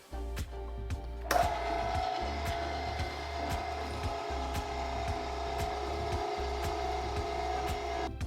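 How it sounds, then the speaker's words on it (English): An electric meat grinder runs steadily while grinding cold bratwurst meat fed down the chute, a close, continuous motor drone with a rhythmic knocking pulse after a sharp switch-on. "Turn on my grinder."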